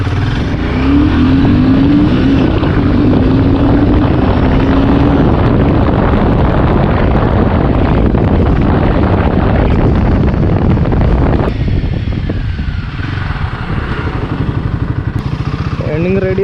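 A Royal Enfield Himalayan 450 motorcycle accelerating hard from standstill, its engine note climbing through the gears under heavy wind rush, loud and close throughout before easing off near the end.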